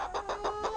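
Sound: chicken clucking in a backyard coop

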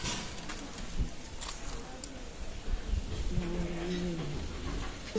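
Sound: Pakistani teddy pigeons cooing

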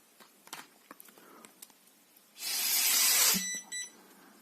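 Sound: short weak blow into Alcoscan AL-8000 breathalyzer

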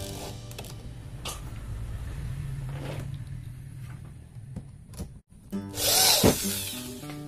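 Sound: power drill driving screws into a cabinet door lock

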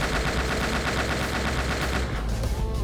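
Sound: gunfire from a video game (World's Crisis)

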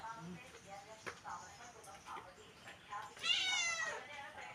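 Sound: kitten meowing

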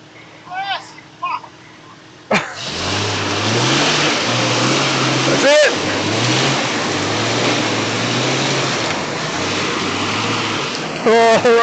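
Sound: 4x4 engine revving while stuck, reversing

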